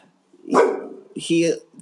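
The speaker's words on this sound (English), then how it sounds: "I don't even know what you're barking at." A dog barks sharply once, then lets out a second short yappy bark, fairly close, with a brief human voice in between.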